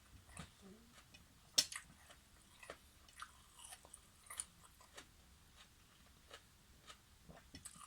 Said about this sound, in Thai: ความกรอบของผักอันนี้